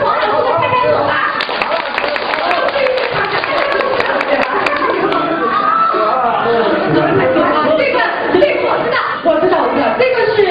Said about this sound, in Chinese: 知道是黄老师的拍拍手吧